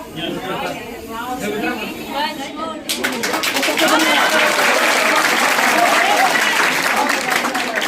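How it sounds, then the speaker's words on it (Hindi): A group of people clapping at a district education and training institute session on fire-extinguishing methods, starting after a few seconds of chatter and swelling into loud, sustained applause with voices mixed in. "ताली बजा रहा है।"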